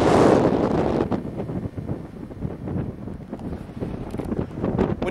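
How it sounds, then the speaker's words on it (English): Strong wind buffets the microphone outdoors on a warm day, a loud, continuous roar and rumble with gusty swells and no talk. "When you get wind like this,"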